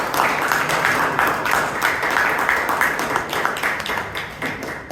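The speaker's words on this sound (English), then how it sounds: "Can we have a big round of applause for him?" Sustained applause from an audience at a Toastmasters club meeting in Bangalore, a dense, even wash of clapping that carries on for several seconds without pause.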